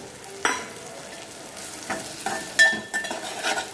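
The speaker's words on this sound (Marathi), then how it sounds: "हे वाटण पण चांगलं परतून घ्यायचं।" A coconut and cumin masala paste is stirred and fried in a pan, making soft sizzling with irregular scraping strokes and a few sharper clinks, close up and with no one talking.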